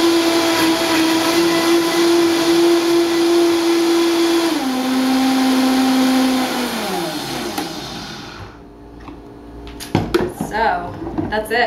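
A countertop blender whirs steadily through a thick dairy-free chocolate smoothie, its motor pitch dropping partway through and then winding down to a stop, followed by a few clattering handling sounds.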